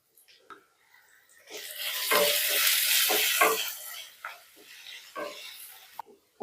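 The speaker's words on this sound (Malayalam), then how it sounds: "നമുക്കൊരു 2 സവാള ചെറുതായിട്ട് ഞാൻ അതിട്ട് കൊടുക്കാം" Finely chopped onions with slit green chilli and a little salt hit hot oil, giving a broad, hissing sizzle that swells loud for a few seconds, then tapers into softer crackles and a few light stirring clicks.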